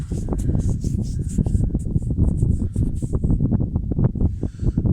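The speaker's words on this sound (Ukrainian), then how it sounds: "Я перепрошую за вітер, погода вітряна" Steady, heavy wind buffeting the microphone, a loud low rumble with gusty thumps throughout and no talking.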